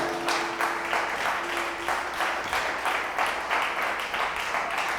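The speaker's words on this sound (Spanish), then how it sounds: "Vamos a darle un fuerte aplauso." A church congregation gives sustained applause after a sermon on offerings, a steady rhythmic wash of many hands clapping, moderately loud and continuous throughout.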